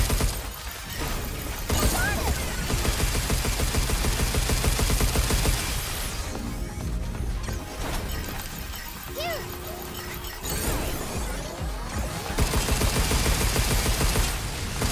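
Gunfire in the video game Pragmata: rapid bursts of shots and crashing impacts in long dense stretches, broken by brief quieter lulls, loud and continuous, with a voice at times underneath.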